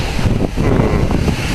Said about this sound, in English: Oh, sorry about the wind. See. The wind is already coming.